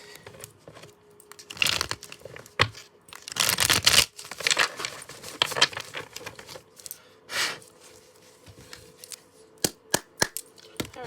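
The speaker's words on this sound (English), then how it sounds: "Let's get one more shuffle and we'll get right into things." Crisp bursts of tarot card shuffling and riffling, some quick snaps and a few sharp taps near the end, close and fairly quiet with no talking.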